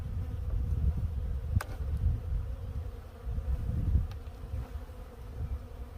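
Honey bees swarm around hives knocked over by a winter storm, a dense, steady buzz filling the space close by with no talk over it.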